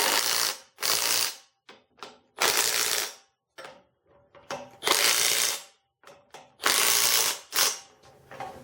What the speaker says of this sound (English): Now we torque our caps.